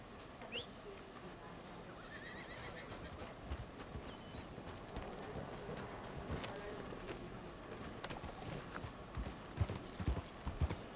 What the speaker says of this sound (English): I thought that was my horse.